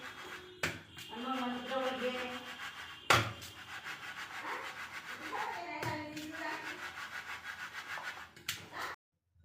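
Cut potatoes being tossed and mixed by hand with rice flour in a bowl, a steady close rubbing and patting with soft knocks, continuing without pause for several seconds.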